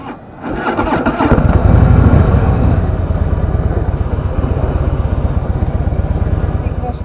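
A 2016 Harley-Davidson FatBoy with the 103 engine cranks and fires up close by, then settles into a loud, lumpy, rhythmic idle pulse that continues to the end.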